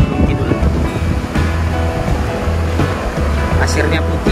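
Surf rolling onto a long white-sand beach at Pantai Slili in Gunung Kidul, Yogyakarta, a steady close wash of waves with a low rumble and some wind buffeting the microphone throughout.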